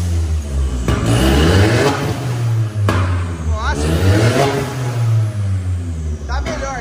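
A VW Polo TSI fitted with a downpipe and an open exhaust diffuser revs hard in several loud, close bursts that rise and fall, while people talk excitedly over the engine.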